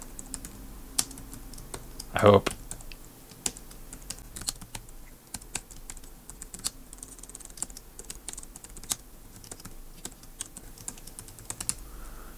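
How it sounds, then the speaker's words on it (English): Someone types an MLX machine-language listing on a computer keyboard, producing sparse, irregular key clicks close by, with a short spoken remark and a louder knock early on. "watching me screw up typing"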